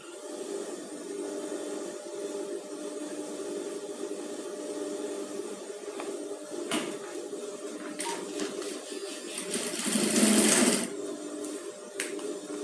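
A sewing machine runs steadily while stitching a padded gown, a continuous mechanical whirr with a brief louder burst near the end, heard alone without talk.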